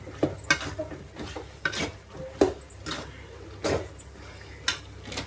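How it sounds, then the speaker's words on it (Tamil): Chicken curry coated in masala and salt gets stirred in a pan, with a series of distinct scraping and clacking strokes at an irregular rhythm over a faint background sizzle. "உப்பு போட்டு நல்லா கலக்கி விட்டு கொஞ்சம் மசாலாங்கெல்லாம் அந்த கறியில் இறங்குற வரையும் கொஞ்சம் வதங்கட்டும்"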